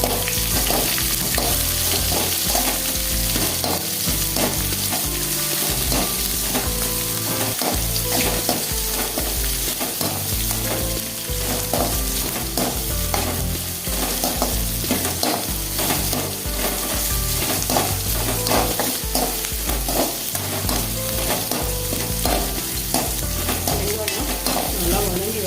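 Onion frying in a pan with dried red chillies for wheat rava upma, a steady loud sizzle with stirring scrapes running continuously throughout, no voices.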